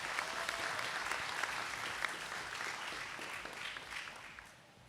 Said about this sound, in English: Why don't you just kind of give some applause as he comes